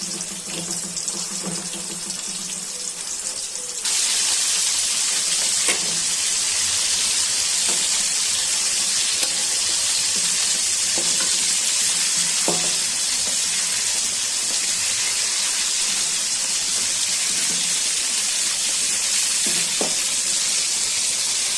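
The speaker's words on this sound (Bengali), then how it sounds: "হলুদ লবণ মাখাইয়া এখন ভালো করে ভাজা নিচ্ছি" Giant freshwater prawns coated in turmeric and salt frying in a pan, a steady loud sizzle and hiss that swells after a few seconds and holds, with faint scraping as they are turned.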